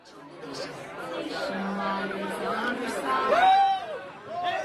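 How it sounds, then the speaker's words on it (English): Crowd of Bison fans chatters and murmurs while waiting to see Carson Wentz, a steady babble of many overlapping voices, nearby and moderately loud, with a few individual voices rising near the end. "there are crazy Bison fans here waiting to see Carson Wentz"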